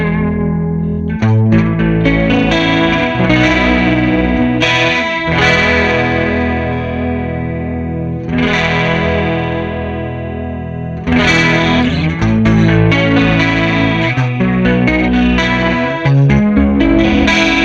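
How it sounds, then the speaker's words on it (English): A Behringer UC200 Ultra Chorus pedal with its tone control turned up gives a bright, shimmering modulated guitar tone, with sustained chords and phrases played loud and continuous, briefly thinning midway before swelling again. "when we turn the tone control up on the pedal, we start to introduce more high end to get a brighter chorus sound"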